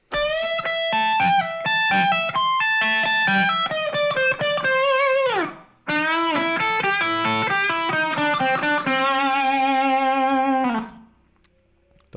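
Distorted electric guitar plays a riff at full speed, loud fast harmonic lines in two phrases separated by a short break, then a sustained chord fading out.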